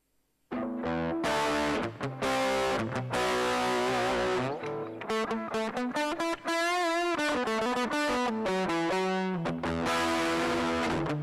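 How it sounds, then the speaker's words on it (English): An electric guitar played through an MXR Distortion pedal via a Zoom G1, loud sustained chords and single notes with a gritty, saturated tone, no talking. "next uh, MXR distortion"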